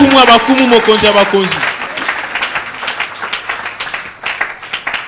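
A church congregation at a Christian seminary bursts into loud applause and clapping, with voices rising over it before the clapping thins out into scattered claps.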